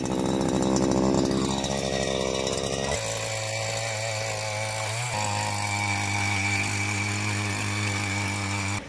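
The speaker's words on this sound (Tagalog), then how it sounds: "Pwede naman tayo ngayong magbungkal sa pamamagitan ng grass cutter na pagka ito po ang ibinala po natin, itong cultivator machine" A grass cutter fitted with a cultivator attachment tills vegetable-garden soil, its two-stroke engine droning steadily and loudly throughout, with the pitch dropping and settling as the tines bite into the ground.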